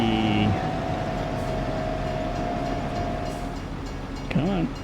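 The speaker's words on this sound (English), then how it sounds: "Come on. Train's gone." A train rolls past in Farming Simulator 25 on the Riverbend Springs map, a steady rumble with a long sustained tone that fades away, while a person talks over it.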